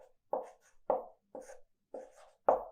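Chalk or marker strokes on a board during a physics lecture come in five sharp, separate bursts, close and fairly loud, with no talk between them.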